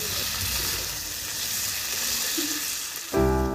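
Meat sautéing in a pan at an outdoor village-style cook, nearly done, a dense continuous sizzle close up with light stirring, ending in a brief louder clatter, no one talking.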